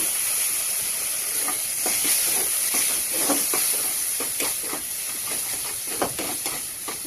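Onion and tomato paste goes into a hot pan and hisses in a constant, steamy sizzle, with sputtering crackles and some stirring scrapes, close up and full throughout.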